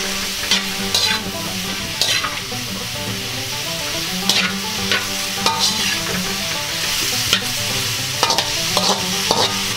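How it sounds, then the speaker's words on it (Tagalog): Beef and mushrooms fry in a pan, a constant sizzle broken by repeated scraping strokes of a spatula stirring at an even, close pace, with no voices. "Hahaluin lang po natin to ng konti para maluto."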